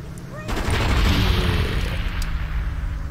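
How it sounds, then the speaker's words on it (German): Explosions and gunfire from the video game Just Cause, a loud, dense rumbling blast that swells after half a second and keeps roaring on with crackling debris for several seconds. "Explosionen. Ich liebe Explosionen."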